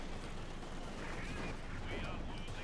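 A T-70 light tank opens fire in Company of Heroes 2, its shots lost in a dense, continuous roar of battlefield gunfire and explosions, with a commentator talking over the din.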